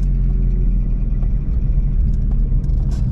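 A 1983 Dacia 1310 with a 1.3-litre 8-valve 54 hp engine revs gently in a steady, continuous low rumble, loud and close, with no talking.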